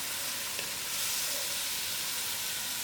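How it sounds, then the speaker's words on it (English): Soya chunks and dhal fry in a pan, giving a soft, steady sizzle and hiss with no one talking. "Now I'll give it a good stir before leaving it to fry for 15 minutes"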